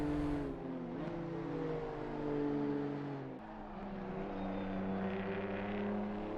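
A BMW M2 race car engine drones steadily in Assetto Corsa Competizione at Oulton Park, its tone dipping at a gear change partway through, then climbing again, with no talking over it.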